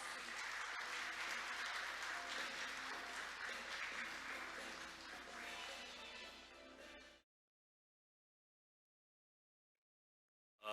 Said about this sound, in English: Let's welcome him onto the stage with a big round of applause.